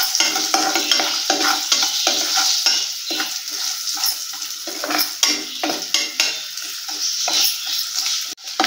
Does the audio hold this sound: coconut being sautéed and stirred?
yes